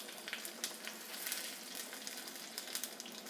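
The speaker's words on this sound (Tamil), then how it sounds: "இதில் வந்து கொஞ்சமாக கூட்டுக்கு தாளித்து கொட்டிடலாம்." Mustard seeds, urad dal and dried red chilies temper in hot coconut oil with a faint, crackling sizzle and scattered small pops, all at low volume.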